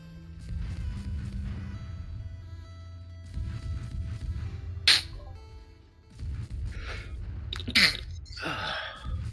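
A single sneeze bursts out among background chatter and game sounds during a live video game session, followed a few seconds later by a second short sneeze-like burst.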